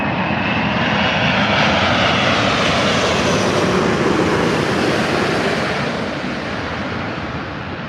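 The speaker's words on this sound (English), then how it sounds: "The Emirates A380 in all its beauty." Emirates Airbus A380 landing at Manchester, a loud, broad engine roar close by that swells and then slowly fades, with no talking over it.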